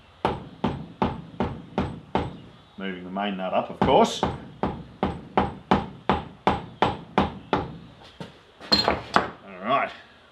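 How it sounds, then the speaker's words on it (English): A hammer gently taps out the rocker shaft of a Series 1 Land Rover engine during restoration, a long run of evenly spaced sharp metallic knocks, close and distinct, with a brief spoken remark midway. "we're going to take one of these hammers and we're going to gently tap out the rocker shaft"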